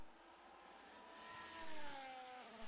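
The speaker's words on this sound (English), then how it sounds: "Just obviously some cars crossing the line." Race cars cross the line at Le Mans during practice, a faint distant engine whine sweeping past with a slight pitch drop, heard low under broadcast ambience.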